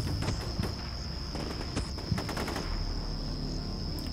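Area fire from an assault platoon peppering a forest in the tactical war game Combat Mission Shock Force 2, heard as rattling bursts of gunshots over a steady high whine, close and fairly loud, with no talking.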